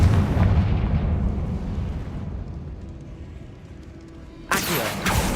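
A Confringo spell explosion in Hogwarts Legacy bursts with a loud booming blast that rolls off into a long fading rumble, followed by a sharp new crackling impact near the end.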